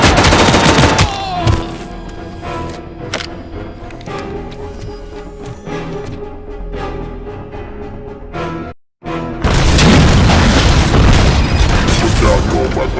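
Loud, dense gunfire and booming blasts from ED-209 attacking in the video game RoboCop Rogue City, sustained rapid bursts with a brief dropout before an even heavier barrage.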